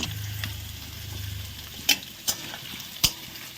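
Potatoes fry in hot oil in a kadai, giving a soft steady sizzle close by, punctuated by three sharp utensil clinks against the pan.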